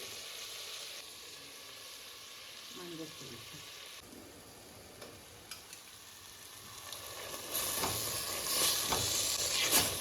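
Ginger, garlic and mint frying in a pan for biryani, a soft sizzle with occasional stirring scrapes that grows louder and crackles hard in the final seconds.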